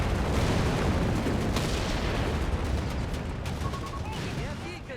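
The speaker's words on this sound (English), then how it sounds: "Artillery coming on down." Artillery barrage in Company of Heroes 3 during a 4v4 battle, a dense continuous rumble of blasts and gunfire that stays loud throughout with faint whistling streaks near the end.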